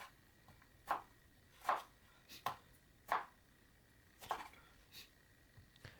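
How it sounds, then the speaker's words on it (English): Knife dicing tomatoes on a cutting board in a home kitchen: about seven sharp, separate chops at an uneven pace, fairly quiet with no speech. "Now I'm cutting tomatoes into dices."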